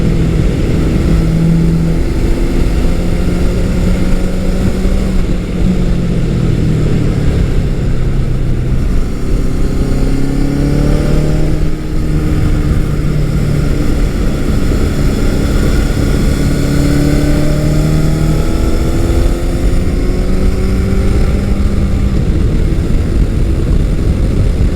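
A vintage Honda CB750 motorcycle engine being ridden, a steady loud rumble with rising and falling revs as the bike accelerates and shifts, continuous throughout with no talk.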